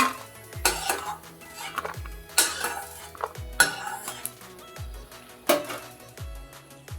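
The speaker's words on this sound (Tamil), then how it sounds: "முந்திரி நல்லா வறுபட்டுருச்சு." Cashews roasting in a pan for carrot halwa, with a faint sizzle under sharp metal scrapes and clanks from a spoon stirring against the pan, about every second; close and alone.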